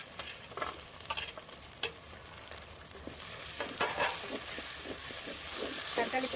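Garlic, green chilies and curry leaves sizzle in hot oil in a pan for a Kerala-style kodampuli sardine curry, with a steady crackling hiss and intermittent scraping stirs that build slightly louder toward the end.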